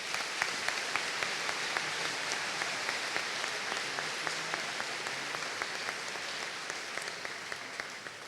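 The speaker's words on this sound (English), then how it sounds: "we will give a big round of applause for these achievements this year" Sustained applause from an audience at a middle school eighth grade promotion ceremony honouring award recipients, steady dense clapping throughout that thins slightly toward the end.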